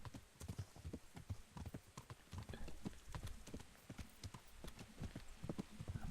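In the video game Kingdom Come: Deliverance, a horse's hooves clip-clop in a quick, steady rhythm nearby, clear and unbroken by talk.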